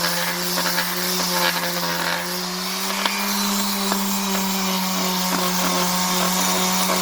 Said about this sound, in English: If you have a good sander like this one, this is a good way to do this.